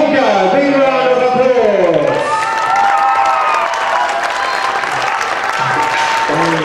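A crowd applauds and cheers the winning girls' team Honka at a youth ice hockey cup final, a loud, steady wash of clapping with shouts and voices over an announcer speaking at the start.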